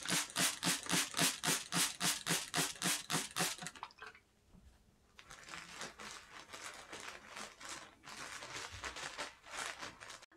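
A hand spray bottle mists water onto apple, pear and plum seeds in a bag, first as a quick run of rhythmic pumped spritzes, then after a pause as quieter, uneven spraying mixed with crinkling of the bag.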